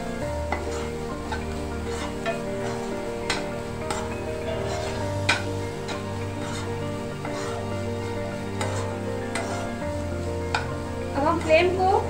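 Vegetable sandwich stuffing with salt, chilli flakes, black pepper, oregano and coriander being stirred in a pan, a soft sizzle under repeated clinks and scrapes of a spoon against the metal, with a low steady hum beneath.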